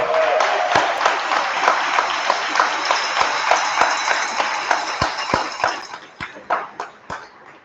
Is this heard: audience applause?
yes